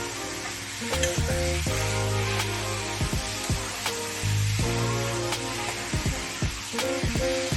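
A fried mixture of tomato, potato and paneer stirred in a pan, loud close sizzling with repeated scraping and knocking strokes of a spoon in a steady rhythm.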